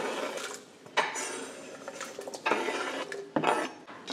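Broth and sweet potatoes drop into a metal cooking pot with several clanking knocks and splashy scrapes, close by, spread over a few seconds.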